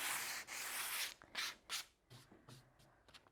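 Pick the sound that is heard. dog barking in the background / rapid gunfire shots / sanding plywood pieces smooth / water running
sanding plywood pieces smooth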